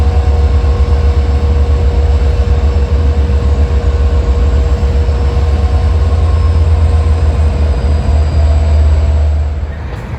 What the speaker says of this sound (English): I think this is train 656 for Port Jefferson that's going to be leaving soon.